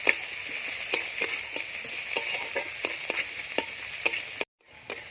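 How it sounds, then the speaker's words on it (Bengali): Onion and green chili fry in oil tempered with five-spice and dried red chili, a bright steady sizzle punctuated by regular spatula scrapes and taps against the pan, then cut off abruptly near the end. "পেঁয়াজটা ভাজতে হবে"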